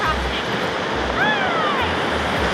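Creek water rushes steadily over a trail crossing in a continuous close, dense roar, with a faint high thin tone drifting briefly above it.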